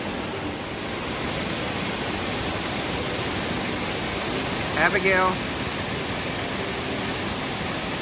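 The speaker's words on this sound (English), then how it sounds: "those waterfalls are beautiful" Waterfalls at Chau Ram Park rush in a steady, broad roar throughout, with a brief voice calling out once over the water.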